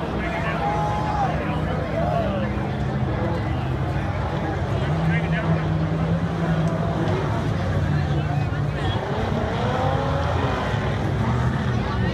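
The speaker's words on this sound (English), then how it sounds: "Our last vehicle's coming across the start finish." Ultra4 off-road race vehicle crossing the start-finish line at a national championship race, engine roar mixed with crowd hubbub and a commentator talking throughout.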